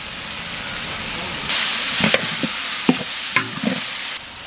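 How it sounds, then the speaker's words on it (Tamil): Tomatoes and onions sautéing in a pan for a temple meal served to devotees at Rameswaram: a steady close hiss that brightens partway through, with several sharp scraping stirs and no voices. "தக்காளி வெங்காயம் நல்லா வதங்கிடுச்சு"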